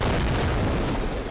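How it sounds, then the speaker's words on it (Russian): A deep, loud bomb blast from the Red Ball 4 video game, a sustained low rumbling boom with no talk. "Вот это сейчас будет взрыв"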